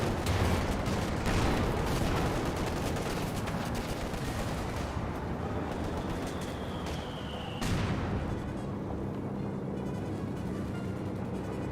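Battle sounds from Company of Heroes 2, a World War II strategy game: a dense, continuous wash of gunfire and anti-tank cannon fire with scattered bursts and a sharp blast near the end, loud and steady throughout.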